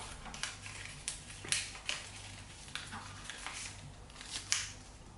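Paper being folded and creased for an origami dove, giving soft crackling rustles and sharp crisp snaps at irregular intervals, close and fairly quiet over faint background hum.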